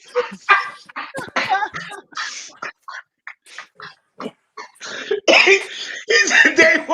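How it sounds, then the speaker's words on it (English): Coughing in short bursts among broken vocal sounds, some loud and rough, set in casual talk around a football match. "You're gonna start coughing like that."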